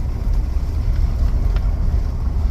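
A car drives over a brick road, giving a continuous low rumbling roar with dense textured vibration, steady and close, with no talking.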